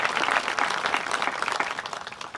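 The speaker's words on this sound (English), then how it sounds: "if you want to give them all a round of applause for being here today" An audience at a high school football field groundbreaking ceremony claps in a steady outdoor round of applause that gradually thins out toward the end.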